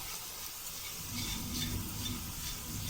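Crab stirred in a hot pan with green peppers, garlic, cumin, coriander and salt gives a soft, steady sizzle and hiss, faint and continuous with light scraping of the stirring.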